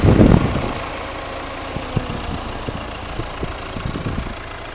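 A Mahindra XUV with a 2200cc engine idles with the AC compressor running, a low, steady hum with faint rhythmic ticks, heard up close after a brief louder burst at the start.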